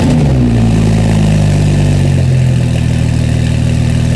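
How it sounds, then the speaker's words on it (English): A Porsche 935 race car engine cold-starts, rumbling loudly up close, its deep revving tone dropping and settling into a rough, throbbing idle. "Take a listen to a cold start from a Porsche"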